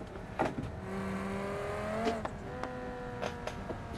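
A car engine in a racing video game hums at a low revving pitch, rising and then cutting out, with short whooshes and clicks of passing traffic at a modest level.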